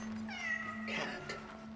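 A cat in the survival horror video game Cronos: The New Dawn lets out a drawn-out, wavering meow followed by a shorter second cry, heard close over a low steady hum.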